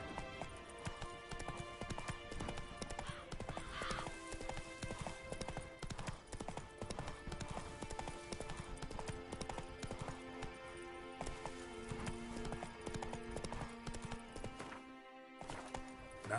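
Roach, Geralt's horse in The Witcher 3, gallops in a fast, continuous drumming of hooves layered over game music, close and steady, with a short drop near the end.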